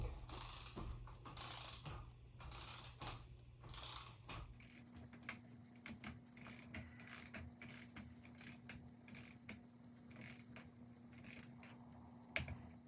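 Bolts on a tie rod end assembly are tightened in stages with a ratchet wrench toward a 38 torque spec, giving repeated close metallic clicks and ratcheting bursts over a steady low hum, with no talking.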